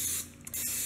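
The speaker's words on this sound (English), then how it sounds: "So I'm just going to spray it with some Pam." Pam cooking spray hisses onto a 12-cup muffin pan in a short burst of broadband spray noise, near and fairly loud, with a brief pause midway.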